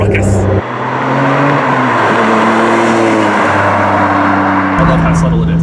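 A Ferrari 550 Maranello V12 revs under acceleration, a loud sustained engine tone climbing through gear changes, close and dominant with a voice faintly mixed in.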